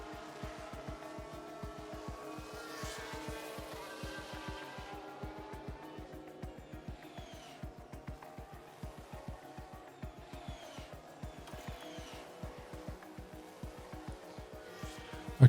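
An F1 race car on soft tyres in the game F1 Manager 2023 drones steadily through laps, its engine note rising and falling with gear changes at moderate, even loudness and no voices.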